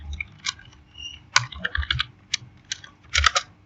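Close, fairly loud bursts of keystrokes on a computer keyboard as an ampersand entity is typed into HTML code, irregular clusters of clacks with short pauses and no voices.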